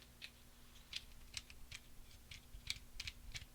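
Comb attachment on a Norelco OneBlade trimmer clicking through its fourteen length settings, a series of faint, crisp plastic clicks spaced irregularly about every third of a second, heard close up and alone.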